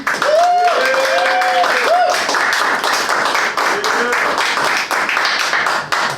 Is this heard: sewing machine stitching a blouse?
no